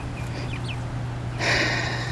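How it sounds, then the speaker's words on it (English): Black Australorp meat chickens, about ten weeks old and just let out of their pen, give soft clucks and calls over a steady low hum, with a brighter, louder burst of activity near the end. "we decided to let some of the meat chickens out"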